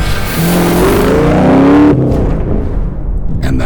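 Dodge Viper engine revving hard up close, climbing in pitch for about two seconds and then cutting off abruptly into a quieter idle.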